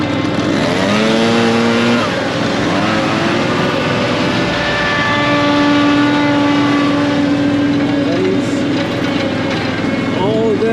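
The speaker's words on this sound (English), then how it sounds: "That's a good blower" A loud Red Max leaf blower engine running steadily at high speed before a winter snowstorm, with a constant roar and a pitch that rises and falls slightly.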